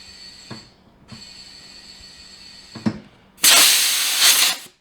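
Compressed air hisses into a new low-profile tire on a Tesla Model 3, with two short bursts, then a long, loud, steady rush of air near the end; no talking.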